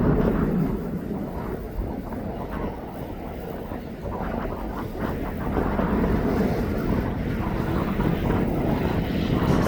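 A departing aircraft at East Midlands Airport, bound for Leipzig, gives a steady, broad, distant engine roar that swells gently and stays constant throughout, with no voices.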